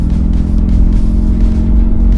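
A V8 biturbo car engine in sport mode runs loud and close, with a dense, steady low rumble throughout and no talk.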